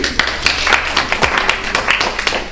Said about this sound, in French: Très bien, on l'applaudit.